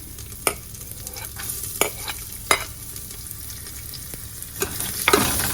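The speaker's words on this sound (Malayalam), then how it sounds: "നമുക്ക് ഇതിനകത്തോട്ട് നമ്മുടെ ഇഞ്ചിയും ഗാർലിക്കും ഇട്ട് കൊടുക്കണം" Chopped ginger and garlic frying in hot oil, a steady close sizzle punctuated by several sharp scrapes and clinks of a stirring spoon against the pan.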